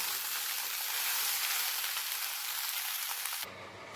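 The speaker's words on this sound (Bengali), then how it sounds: "আমি এখন আলু আর সয়াবিনগুলোকে আরেকটু ভেজে নেব" Steady, loud sizzling of potatoes and soybean chunks frying in oil in a pan, a continuous dense crackle that drops off abruptly near the end.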